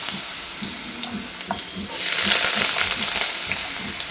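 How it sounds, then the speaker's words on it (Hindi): Potatoes go into a hot pan and a loud, steady sizzle surges up partway through. Light clatter comes before it, and there is no speech. "तो मैं डायरेक्ट इसमें आलू डालूँगी।"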